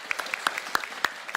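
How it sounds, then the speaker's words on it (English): Scattered clapping from a small audience at a Rainbow Six Siege panel, quick sharp claps in an uneven patter, fairly faint and without voices. "Give a round of applause for these guys because they are awesome."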